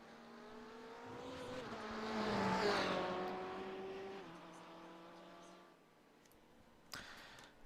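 Race car engines in the iRacing video game, a droning engine whose pitch climbs and shifts as it swells louder and then fades, with a faint click near the end.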